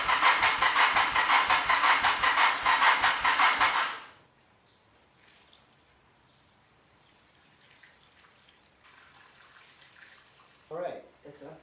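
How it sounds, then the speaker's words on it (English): The starter of a 1985 Honda Shadow motorcycle, with freshly cleaned carburetors, cranks the engine without it firing. Loud, fast, rhythmic cranking pulses last about four seconds and then cut off, leaving near silence and then a brief spoken voice. "Now it cranks."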